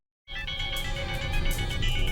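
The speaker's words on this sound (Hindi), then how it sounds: "ये शौर्य फोन क्यों नहीं उठा रहा है?" A mobile phone rings on and on with no one answering, a steady electronic ringtone that starts abruptly and holds at an even level for about two seconds with no talking.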